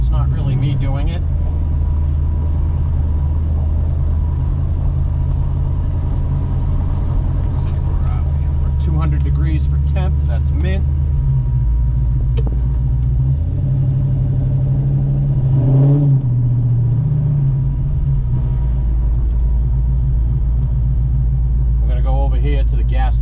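A 1970 Chevelle with an LSA engine drives along, its deep, loud engine rumble swelling and easing as the throttle is jerked on and off, with someone talking over it at times.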